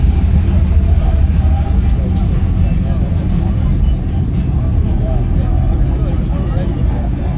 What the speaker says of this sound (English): Got some more trucks pulling up.